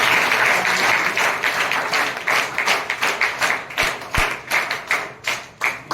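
Audience clapping at a felicitation ceremony honouring a pilot, a dense burst of applause that thins into scattered, rhythmic individual claps toward the end.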